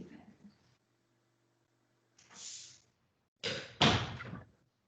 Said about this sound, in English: let me close this door so that I can hear you